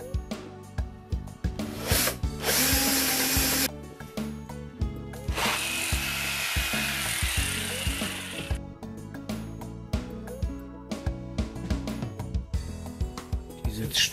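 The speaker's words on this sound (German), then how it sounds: "da rein wird noch gesägt das Flugloch" Hand tool cutting the entrance hole for a tit nest box into the lid of a metal can, with repeated short scraping strokes, longer bursts of steady rasping, and occasional clicks and knocks close by.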